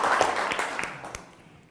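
A quiz show audience claps in a short burst of applause that fades quickly, with a few distinct claps standing out as it dies away.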